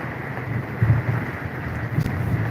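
Steady rain falls outdoors as a broadband hiss with low rumbling wind buffeting the microphone, fairly loud and continuous, and no one speaking.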